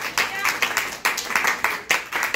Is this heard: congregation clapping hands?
yes